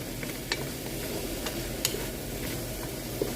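Garlic and onion sautéing in a pan, a steady close sizzle of frying with faint scraping clicks of stirring throughout.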